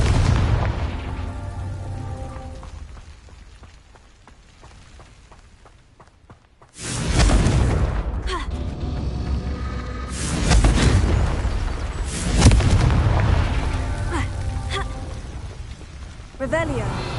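Confringo fire-blasting spell explosions in Hogwarts Legacy, a few loud booming bursts with whooshing, crackling tails that come after a quieter stretch and overlap one another in quick succession.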